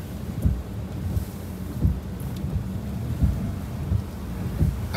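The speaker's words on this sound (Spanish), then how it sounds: "fuertísimos vientos y mucha lluvia" Hurricane Delta strikes the seafront at Progreso, Yucatán, with strong gusty wind buffeting loudly alongside heavy rain, a continuous roar with repeated low thumps.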